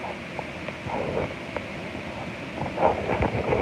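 Wind blows on a boat several miles offshore in choppy water, a steady rushing buffet with occasional gusty bumps against the microphone.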